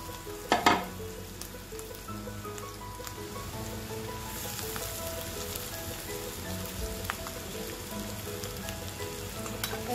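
Diced salted potato dropped into hot tempering for Nashik-style vada filling, a brief loud clatter and burst followed by a steady, close, crackling sizzle that continues evenly.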